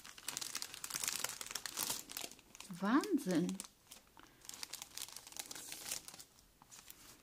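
Plastic bags being handled, with crinkling and rustling bursts throughout, heard close up as someone talks over them.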